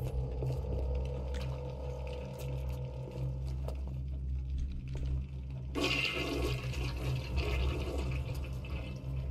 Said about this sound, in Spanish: Vamos a tirar de la cisterna.